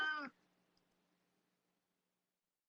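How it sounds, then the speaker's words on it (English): A single short cat meow at the very start, fairly close and clear, followed by near silence with a faint low hum in the background. "Am I hearing a cat in the channel?"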